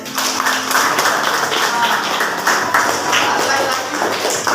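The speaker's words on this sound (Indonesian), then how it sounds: "Tepuk tangan untuk dia." A classroom of students claps for a classmate, a dense burst of hand clapping lasting several seconds with voices mixed in.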